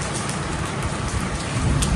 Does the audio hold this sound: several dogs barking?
no